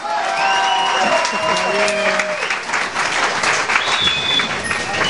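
An audience at a DJ competition bursts into loud, sustained applause, a dense clapping crowd close up, with a few voices and whistles mixed in near the start.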